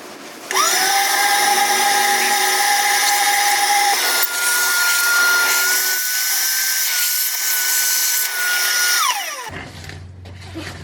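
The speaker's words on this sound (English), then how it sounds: "Now I'm gonna go ahead and vacuum that out." A shop vacuum cleans out a freshly drilled hole during an Edge CTS3 EGT probe install, its loud, steady motor whine running for about nine seconds before winding down and cutting off.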